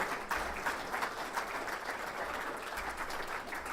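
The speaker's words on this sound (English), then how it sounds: "So, ladies and gentlemen, a round of applause for Richard Davison" An audience at an industry Hall of Fame award ceremony applauds the first inductee, a soft, fairly distant wash of clapping heard steadily from start to finish.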